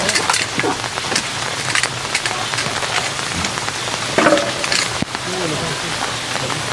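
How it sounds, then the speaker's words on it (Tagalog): Steady rain pattering on a surface throughout, with people talking over the constant wash of drops. "Umuulan kasi"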